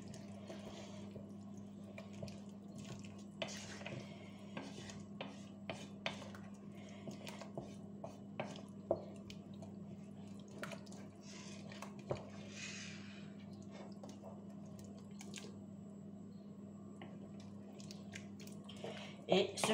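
Turkey osso buco is stirred in a pot, with faint, scattered clinks and scrapes of a utensil against the pot over a quiet, steady background hum.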